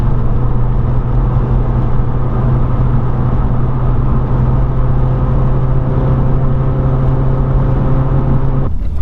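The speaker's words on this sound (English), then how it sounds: "I'm just enjoying some driving in the S15." Nissan Silvia S15 engine droning steadily from inside the cabin while driving, a constant low hum with a strong tonal note throughout, no talking.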